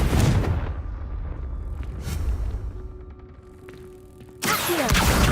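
A Confringo fire spell blasts in Hogwarts Legacy, a heavy booming explosion at the start, a low rumbling tail, and a second loud burst near the end.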